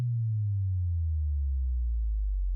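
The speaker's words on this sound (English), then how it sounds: "Literally just a sine wave going down." A sub drop: a pure low sine tone sliding smoothly downward in pitch over a couple of seconds, loud and alone with nothing else sounding.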